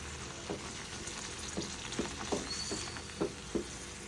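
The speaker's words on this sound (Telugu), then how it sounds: "ఇలా కలుపుకుంటే బ్రౌన్ కలర్ వచ్చేంత వరకు వేగనివ్వాలి" Masala paste frying in a pan for goat liver curry, a low continuous sizzle broken by several distinct scraping strokes of stirring spaced unevenly across about four seconds.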